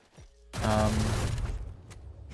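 A video game rifle fires through a wall on the Lotus map, a sharp loud shot followed by a rattling burst that decays over about a second, with no talking.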